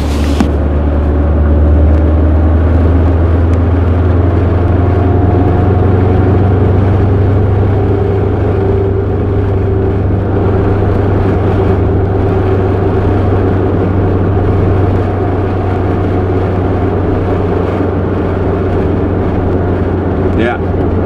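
A 1984 Corvette 4+3 cruises in overdrive, its engine holding a steady, close low drone with continuous road and wind noise throughout.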